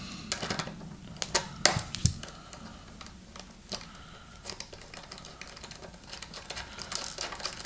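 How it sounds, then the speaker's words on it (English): A 10mm socket wrench loosening a nut on the hardware of a Washburn Sonamaster guitar, a series of light close clicks and ratcheting ticks at an uneven pace, fairly quiet. "All you need a 10mm socket or wrench of some kind just to loosen that nut."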